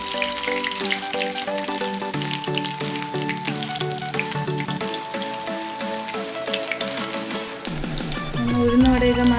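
Vadas made from leftover cooked rice sizzle in hot oil, a constant crackling fry that runs beneath prominent background music for the whole stretch.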